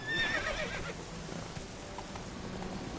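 A horse in The Witcher video game neighs briefly at the start over a low, rumbling background, with faint clopping sounds continuing afterward.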